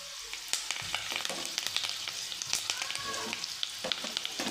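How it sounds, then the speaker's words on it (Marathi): Curry leaves, cumin and mustard seeds crackling in hot oil with potatoes for aloo curry, a busy close sizzle dotted with frequent sharp pops and spatters, no talking. "आता यामध्ये मी कड़ीपत्ता घालतो"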